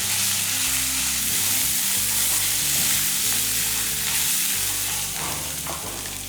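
Garlic and coriander leaves sautéing in a pan for a village-style dried sundakkai thuvayal roar with a dense, continuous sizzle and frying hiss, close and loud throughout, no talking.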